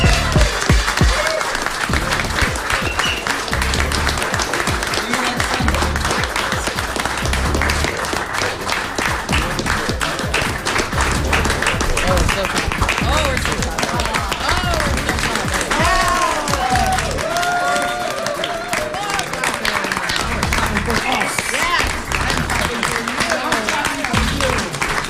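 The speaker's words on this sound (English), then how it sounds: "We just got the most awkwardly long clap" Long, steady audience applause with clapping and occasional cheers from a studio crowd at the close of a tech talk show, loud and sustained for the full length.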